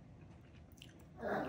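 Close chewing and biting on shrimp with broccoli, soft wet mouth sounds ending in a louder crunchy bite, with no talking.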